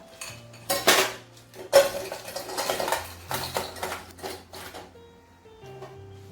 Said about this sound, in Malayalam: ഇനി നമ്മൾ ഞണ്ട് അതിനകത്തേക്ക് ഇടുക